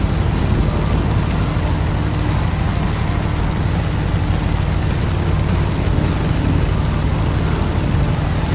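Vintage propeller plane on approach to a Papua New Guinea bush strip in a flight simulator, its steady loud engine drone and rumble running unbroken throughout with no pauses.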